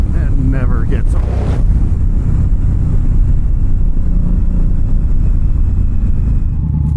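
Indian Scout Bobber Sixty V-twin motorcycle riding along, a steady loud low engine drone mixed with constant wind buffeting on the microphone, with a brief voice near the start.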